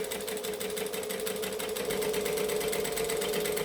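A sewing machine runs a continuous seam along a small fabric strap, giving a steady, fast mechanical whir with rapid needle ticks. It sounds close and even, with no speech.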